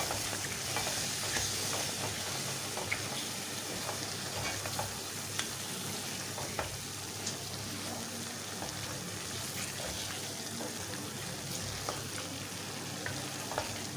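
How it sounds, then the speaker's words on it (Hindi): Mutton with tomato puree being roasted and stirred in a pan, a quiet continuous sizzle with frequent soft scraping and ticking strokes of a spoon, steady throughout with no voices. "ये 1 कप टमाटो प्यूरी है। ये भी इसमें डाल देंगे। इसकी भी अच्छी तरह बुनाई कर लेंगे"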